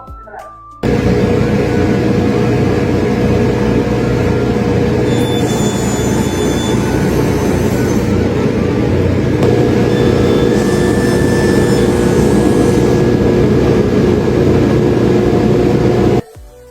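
A heavy-duty panel saw cutting boards in a cabinet workshop, a loud steady machine roar running unbroken for about fifteen seconds with no talk.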